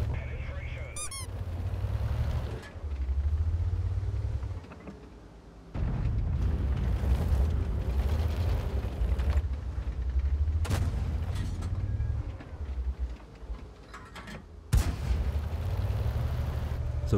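Tank cannons boom in World of Tanks gameplay with the Firefly VC tank. Several sharp heavy blasts break up a low engine rumble, with quieter gaps between the shots.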